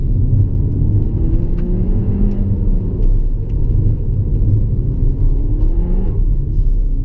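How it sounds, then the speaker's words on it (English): A Peugeot 308 GTi 270 hot hatch accelerates hard on a narrow road with its front wheels spinning, giving a steady loud engine rumble and road roar heard from inside the cabin. "it's spinning both wheels and pushing me, in this case, over to the other side of the road"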